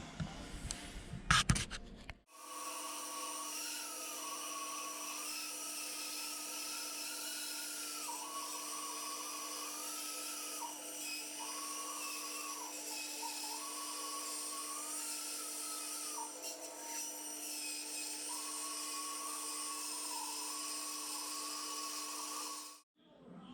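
Steady high whine of a power saw cutting a plumb cut on a wooden roof rafter for a barrel vault porch, running continuously for about twenty seconds with slight pitch dips under load, after a brief clatter at the start.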